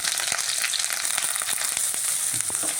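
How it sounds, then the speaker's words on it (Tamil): Steady crackling sizzle of chopped banana flower sautéing in a hot pan over low to medium flame, with occasional stirring clicks. "இப்போ அதில் இந்த வாழைப்பூவை வந்து போட்டு அப்படியே வதக்கிடலாம்"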